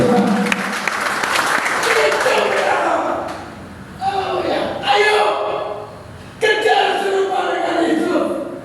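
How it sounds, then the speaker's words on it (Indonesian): Church congregation applauding for God during a worship service, a dense burst of clapping that swells, dips and picks up again in waves over about nine seconds, with voices mixed in. "Berikan tepuk tangan dan Tuhan."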